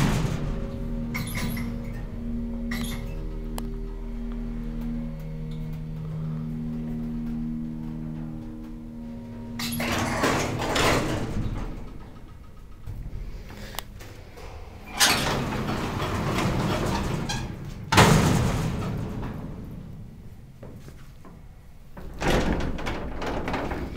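Century II elevator doors slide open and shut several times, their broad rumbling sweeps broken by sharp thuds as the counterweighted panels meet, against a steady low machine hum inside the car.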